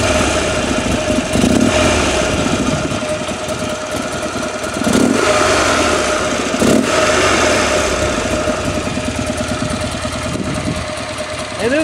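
A Harley-Davidson XR1200 motorcycle engine runs steadily at idle nearby, its loud, rough, shaking rumble holding throughout with a few slight swells.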